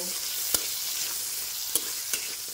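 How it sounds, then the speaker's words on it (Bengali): Mashed cabbage fries quietly in a pan, a soft, steady sizzle broken by three sharp clicks as a spatula stirs and strikes the pan. "এইবারে আমি একটু নাড়িয়ে নেব, নাড়িয়ে চাড়িয়ে ঢেকে দেব"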